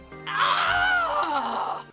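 A character groans in a Neopets: The Darkest Faerie game cutscene, one drawn-out voiced moan of almost two seconds that bends downward in pitch toward the end, loud and close with nothing else heard.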